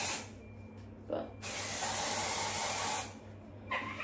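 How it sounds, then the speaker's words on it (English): Body spray or deodorant aerosol hissing from a can in a short burst followed by a longer steady spray of about two seconds, close by, then a brief final puff. "put on some deodorant. Also, this body spray."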